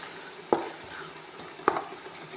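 Tomatoes frying in curry masala for a potato and egg curry, with a steady background sizzle and two sharp spoon clanks against the pot while stirring, close with no talking.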